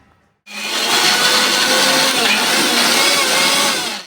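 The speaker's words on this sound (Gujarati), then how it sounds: "આ સેવને આપણે મિક્સરમાં ગ્રાઇન્ડ કરીશું" A loud, steady mechanical whir of a mixer grinder starts after a brief silence and runs continuously, grinding fine dry sev with a gritty, rattling texture.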